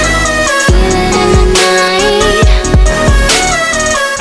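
A layered lead synth plays a bright, buzzy melody with rich harmonics over punchy kick drums, filling the few seconds loudly with no voice.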